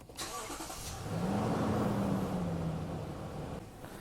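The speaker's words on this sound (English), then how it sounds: "let me go ahead and turn on the engine" A 2014-2021 Lexus GX 460 SUV engine cranks and catches, then settles into a steady, low idle hum with a rising tone, close by and alone.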